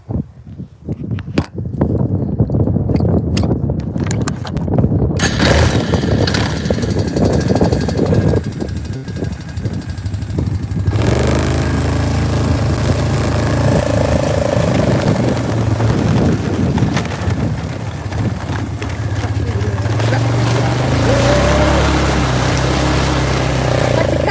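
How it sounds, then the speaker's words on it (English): A four-wheeler ATV is started on a dirt road. Scattered close knocks and handling noises lead into a loud, steady engine drone that runs for the rest of the time, with a brief change in tone partway through. "gotta start four-wheeler again"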